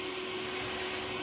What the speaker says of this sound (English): now we're ready to vacuum bees